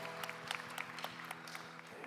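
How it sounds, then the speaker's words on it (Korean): Applause from a church congregation at a Sunday young adults' worship service, a steady wash of many hands clapping together throughout, moderately loud and without speech. "우리 박수로 서로의 삶을 응원하며 축복합니다."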